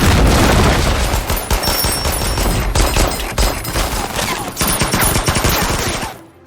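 Battle scene from the war film Stalingrad: sustained, loud bursts of rapid gunfire and heavy booms crowd together, with a grenade blast among the chaos before it cuts off abruptly.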